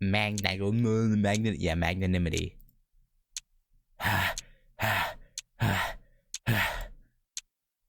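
A running character in the visual novel Kagetsu Tohya breathes with labored strain: a long strained voiced exhale, then four or five sharp, breathy gasps close up, separated by short pauses.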